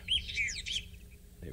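A southern black tit gives a few bright, high whistled notes in quick succession on a safari outing, fairly close and clear. A low background rumble continues after the calls stop.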